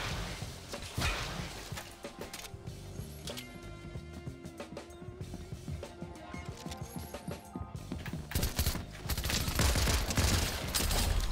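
Rapid volleys of DMR rifle fire in Fortnite Chapter 4 crack over game music and effects, shots coming in dense bursts throughout with a louder stretch near the end.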